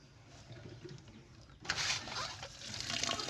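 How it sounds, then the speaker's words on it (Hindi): Running water poured over fresh spinach leaves being rinsed of soil by hand, a soft splashing wash that swells after a quiet start and continues steadily, close and moderately loud. "इस तरह धोएंगे पानी डाल के, ताकि जो पालक में जो मिट्टी वगैरह है ना वो निकल जाए।"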